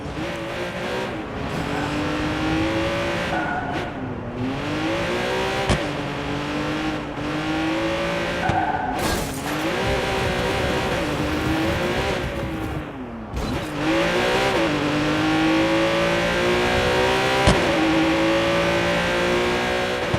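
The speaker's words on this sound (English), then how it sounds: "the car sounds are just a little bit odd in this game" A sports car engine in Watch Dogs 2 revving and droning continuously, pitch rising and falling through gear shifts, with occasional tire squeals, a steady synthetic game-engine sound.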